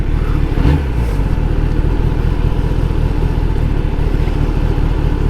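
A Kawasaki superbike's engine runs in sports mode with a loud, steady close-up drone and a brief rise in revs near the start, with no talk.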